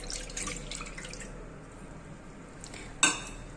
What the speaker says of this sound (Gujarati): પહેલાં પેનમાં આપણે થોડું પાણી નાખીશું આ રીતે